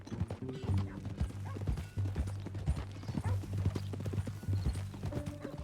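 Horse hooves clip-clop steadily in Red Dead Redemption 2, a rhythmic trot of clear hoofbeats heard close over a low, steady hum, with a faint voice briefly under the hooves.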